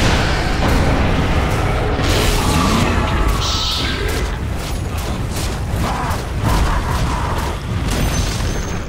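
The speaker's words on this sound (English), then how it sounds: "Dire's top tower has fallen" The Dire top tower being destroyed during a Dota 2 match: repeated loud booms and crashing impacts over busy clanking battle noise. The impacts go on steadily throughout, with no clear pause.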